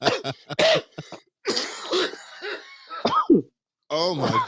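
Several harsh coughs and throat-clearing bursts break out close up on a podcast recording, mixed in with people talking.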